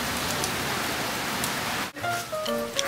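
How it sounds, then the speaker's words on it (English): Heavy rain pours steadily onto rooftops and the ground outside a porch, a dense continuous hiss that briefly drops out near the end before a few faint tonal sounds appear. "It is pouring rain right now."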